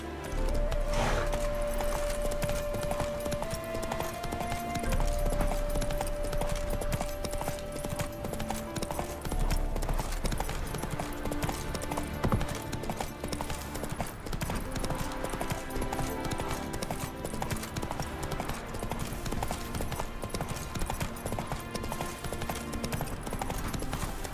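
Hooves of Roach, the horse in The Witcher 3, beat a continuous clip-clop rhythm at a steady pace, set against game music with a sustained tone early on; a brief faint whinny comes near the start.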